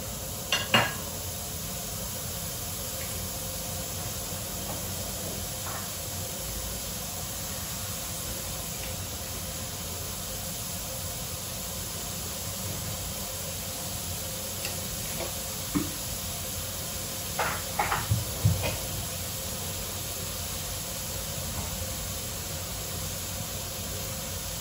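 Bacon sautéing in a pan for chicken carbonara, a steady soft sizzle and hiss running throughout with occasional clinks of a utensil against the pan.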